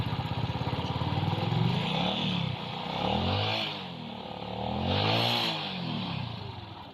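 A Honda XRM 125 motorcycle engine with a carburetor hard-starting problem revs unevenly under throttle, bogging and surging in waves as it strains, loud and close with no talking.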